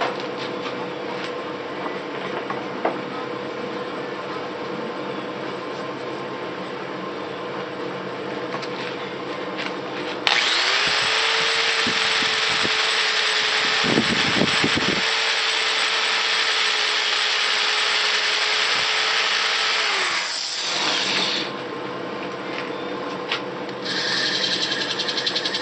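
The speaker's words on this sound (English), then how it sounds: "Do a little sanding." Steady abrasive rasping against a wooden goblet being sanded, continuous and fairly loud for several seconds with a brief pause, over a faint background hum.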